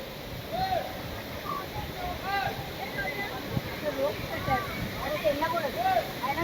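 Vibhuti Falls waterfall on a road trip near Gokarna, a continuous rushing roar of falling water with splashing, heard under people talking nearby.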